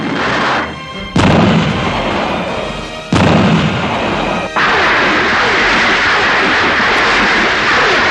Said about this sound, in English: The thunderous response of gunfire in reply to his gunshot echoes across the